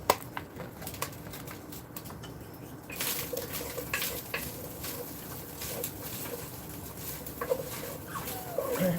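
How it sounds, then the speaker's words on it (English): Green peppers and onions sauté in a pan for homemade chili, giving a soft continuous sizzle that swells after a few seconds, with occasional clinks and scrapes of a utensil, no voices. "I'm going to go ahead and put some green peppers and onions in there. And let them saute."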